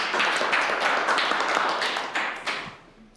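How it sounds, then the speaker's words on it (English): A small group applauds a speaker at a live coaching session for executives, with steady close clapping that thins and fades out over the final second. "let's give her a round of applause again."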